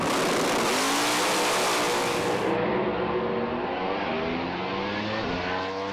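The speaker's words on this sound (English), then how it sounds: "On track, Sam Fennick edging this car forward" A drag race car on track revs hard and roars loudly and continuously, the engine note climbing as it edges forward, close and dominant with no voices.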